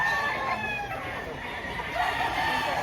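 A rooster crows clearly at a busy chicken market in Lipa, Batangas, its call rising and holding over steady background chatter and people talking nearby.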